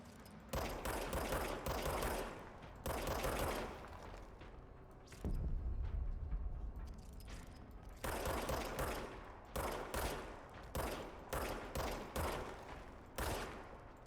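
Gunfire in the video game Control, with bursts of rapid shots and repeated single shots spread across the stretch, loud and dense with a short gap between volleys and no talk.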